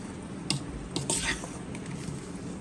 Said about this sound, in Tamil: ஒரு கரண்டியை வச்சு நல்லா கட்டியை உடச்சி விட்டுக்கலாம்